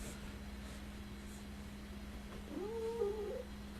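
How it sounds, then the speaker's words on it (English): A cat in the background gives a single drawn-out, moaning caterwaul late in the stretch, quiet and somewhat distant over a steady low hum. "I hope that's the cat. That is the cat."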